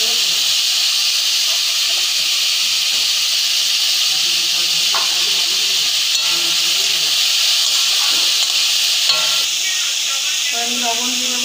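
Green beans stir-fry in a hot pan for chilli chicken and fried rice, giving a loud, constant hissing sizzle with faint scraping and clatter from stirring beneath it.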